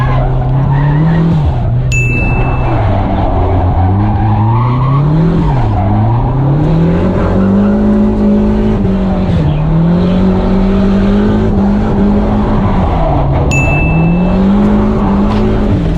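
A drifting car's engine revs hard and steadily, its pitch rising and falling as the throttle lifts and reapplies. A few tire squeals cut in over the loud, continuous drone.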